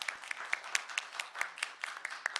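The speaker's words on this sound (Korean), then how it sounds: "다시 한번 큰 박수 부탁드립니다." Audience applause after a high school student's pitch at a youth ocean-industry event, with scattered individual claps popping out over a thinner wash of clapping, moderately loud and close.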